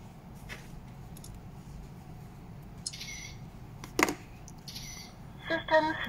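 Pairing tone from a GOQ Q50 outdoor WiFi CCTV camera (V380 Pro) during setup: a few short chirping electronic bursts toward the end, over a steady background hum.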